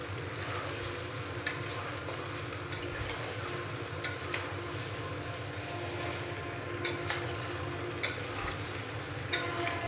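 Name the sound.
mutton and fried potatoes being stir-fried in a pan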